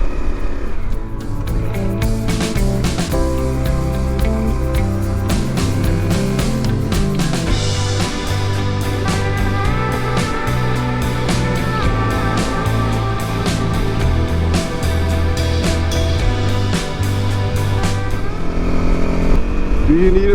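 A Honda CRF250L dual-sport motorcycle climbs a steep hill, its engine droning loud and close throughout with shifting pitch as the rider works the throttle, steady and unbroken for the whole stretch.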